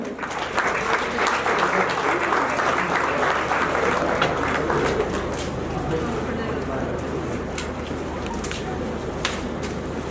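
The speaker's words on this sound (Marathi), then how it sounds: "जोरदार टाळ्याने आपण त्या पुस्तकाचं स्वागत करायचं आहे" A hall audience at a memorial-day book launch breaks into sustained, dense applause that continues steadily for about ten seconds, with voices murmuring faintly underneath.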